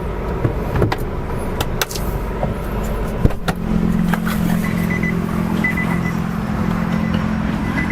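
Diesel SUV driving at speed, a steady engine and road rumble running continuously with a low droning tone, heard from inside the cabin with no talking.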